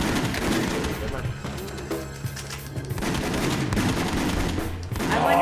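Rapid, dense gunfire from the House of the Dead Overkill rail shooter video game rattles in loud bursts with short gaps, while people talk over it.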